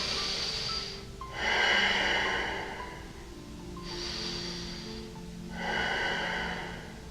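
Slow, deep breaths during a yoga pose, heard up close and alone: several long airy inhales and exhales rising and falling in a steady rhythm.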